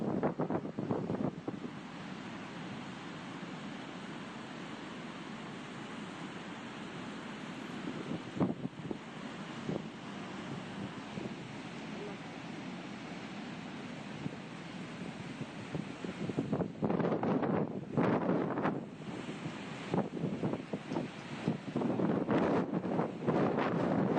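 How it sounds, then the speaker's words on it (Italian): Strong wind gusts buffet the microphone on the Caorle coast, a continuous roar that swells into heavier blasts toward the end, with no talking. "Sentite quanto forte soffia il vento."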